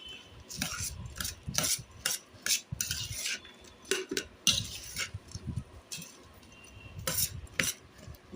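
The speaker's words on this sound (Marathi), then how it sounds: "आता चिंच गुळाचं पाणी अहो घालत आहेत भेळमध्ये आणि छान अशी मिक्स करत आहेत।" Bhel being tossed with tamarind-jaggery water in a bowl gives irregular spoon clinks and scrapes in short bursts, fairly close and moderately loud, with no voices.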